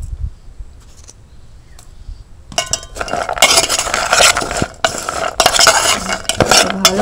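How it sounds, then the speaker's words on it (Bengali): Corn kernels being tossed with cornflour, chili powder and salt in a bowl: a quiet lead-in, then busy scraping, rustling and clinking of a spoon against the dish, close and fairly loud. "ভালো করে কোট করে নিতে হবে, ভুট্টার গায়ে যাতে ভালো করে মাখামাখি হয়ে যায়"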